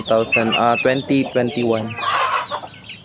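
Hens cluck in quick, repeated bursts close by, followed by a softer rustling scratch, with a short spoken word near the end.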